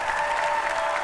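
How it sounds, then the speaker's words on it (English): A crowd at an arm wrestling event claps in a short, steady burst, continuous and even, no single voice standing out. "Everybody give him a round of applause to get him back up on the stage."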